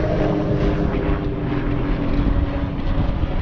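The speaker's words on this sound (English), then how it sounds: "We got a helicopter going over." A helicopter passes overhead outdoors on a mountain ride, a steady loud rotor and engine drone holding through the whole stretch with no talking.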